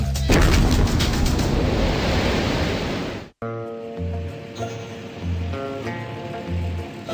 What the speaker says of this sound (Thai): พวกเขาจุดชนวนและระเบิดถ่านหิน ของพวกนี้ไม่ใช่ดอกไม้ไฟนะครับ พวกมันน่ะพวกมันระเบิดอย่างรุนแรง